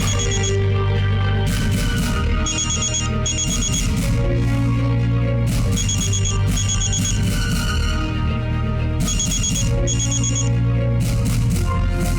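A phone ringtone plays loudly and continuously for about twelve seconds, a repeating melodic pattern of bright, high chiming notes in regular bursts over a steady lower musical backing, with no talking.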